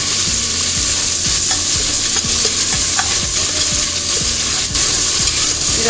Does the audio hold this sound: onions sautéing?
yes